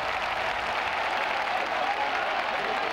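Spectators split into two sides at a Korean baseball game in the 1980s–90s cheer as a dense, even wall of applause and crowd roar, loud and steady throughout with no distinct voices standing out.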